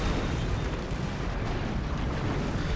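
Heavy artillery barrage in the World War II strategy game Axis & Allies, pounding King Tiger tanks during the fall of Berlin: a dense, continuous rumbling roar of blasts and explosions with no talk.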